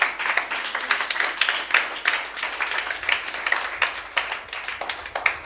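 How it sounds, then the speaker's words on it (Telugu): A church congregation claps their hands, a dense stream of overlapping claps with an irregular rhythm, fairly faint and heard from a distance, with no speech over it. "చప్పట్లు కొట్టు."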